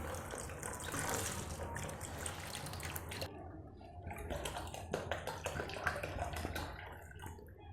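Water pours from a 2.25 liter Pepsi bottle into a plastic rectangular planter, a steady splashing gurgle close up that trails into scattered drips and trickles near the end.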